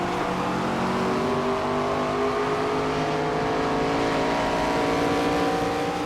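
Race cars in the pit lane in the NASCAR 25 video game at Dover, with a continuous loud engine drone and shifting, sliding pitch lines, and no pauses throughout.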